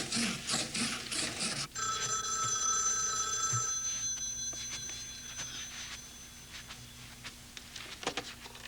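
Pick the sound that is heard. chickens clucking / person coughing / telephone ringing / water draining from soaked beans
telephone ringing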